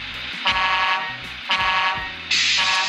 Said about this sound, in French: Alors, le klaxon.